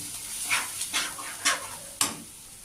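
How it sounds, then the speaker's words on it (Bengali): Turmeric spice paste frying in a pan for pomfret curry, soft sizzling broken by four or five scraping stir strokes, close and fairly quiet, no talk. "এবার মশলাটা আমি কষতে থাকবো"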